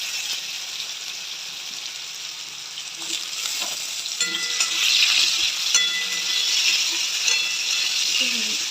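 Potatoes fry in hot oil with a bright, continuous sizzle that grows louder and crackles more toward the middle, accompanied by a few light utensil clinks and scrapes.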